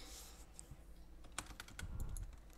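Computer keyboard typing during a Rocket League session, a quiet scatter of soft key clicks that bunch into a slightly louder flurry toward the end, with no voices over it.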